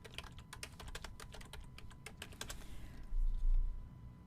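Rapid, uneven keystrokes clatter on a computer keyboard close by, with a short burst of quicker typing and a low thump near the end. A faint steady hum sits underneath.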